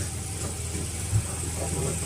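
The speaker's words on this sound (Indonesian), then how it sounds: "dengan mesin utamanya." The main engine aboard a bagan fishing platform off Kolaka Utara, Indonesia, runs with a steady low rumbling drone, continuous and fairly loud up close, with no talk over it.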